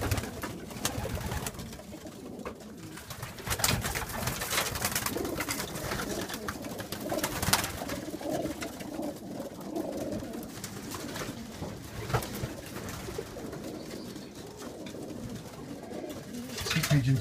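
Racing pigeons coo softly in a loft, low murmuring calls repeating against a quiet background, with occasional faint rustling.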